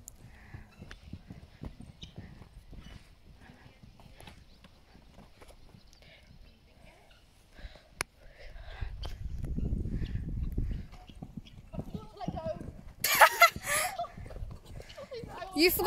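Horse hooves clip-clop during a ride at a barn, a soft rhythmic patter under wind and movement noise, building to heavier thuds near a jump, with a brief sharp burst late on and people talking.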